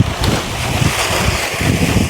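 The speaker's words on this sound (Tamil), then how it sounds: "காற்று தான் கொஞ்சம் ஹெவியாக இருக்குது" Strong gusty wind blows across open ground outdoors in a village where palm fruit is being gathered, a steady loud rushing buffet on the microphone with no voices.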